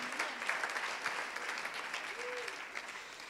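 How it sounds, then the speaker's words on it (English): Audience applause at a main-stage event, a steady sustained wash of clapping from a large crowd with a faint voice briefly audible. "Come on, make applause for them."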